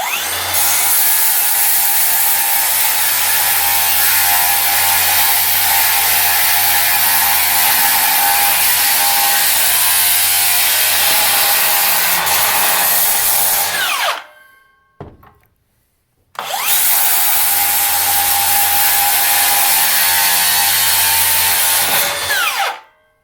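A DeWalt DCS577 circular saw fitted with a 3D-printed dust director cuts wood on a workbench, a loud, close, sustained whining roar that cuts out briefly and then runs again for a second long cut.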